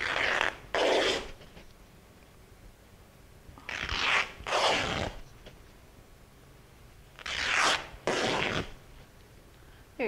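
Fabric strips are torn by hand for DIY pumpkin decor: six sharp ripping bursts in three pairs, each pair a quick double rip, loud and close with quiet pauses between.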